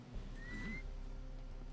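A single short whistle from a character in the video game Commandos Origins, a thin steady tone over quiet background game ambience.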